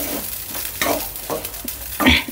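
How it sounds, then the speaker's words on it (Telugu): Paneer fried rice with coriander stirred in a hot pan, a loud close sizzle with several scraping tosses, the last one heaviest. "కొంచెం కొత్తిమీరతో కొత్తిమీర చల్లేసి ఒకసారి కలిపేసుకోండి"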